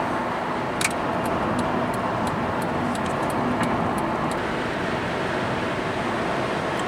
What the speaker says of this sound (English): at 70 miles an hour, it still rides really quiet,